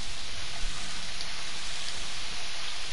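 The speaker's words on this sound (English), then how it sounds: "Uh-oh, here come the rain. It's raining hard," Heavy rain falling outside a window, a steady dense hiss of drops with no pauses or other sounds, close and fairly loud for the whole stretch.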